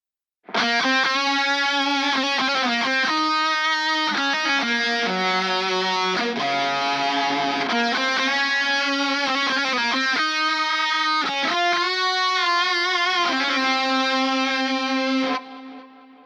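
An electric lead guitar plays a sustained, singing power metal melody drenched in short and long delay, room and reverb, notes ringing into each other before the tail cuts off.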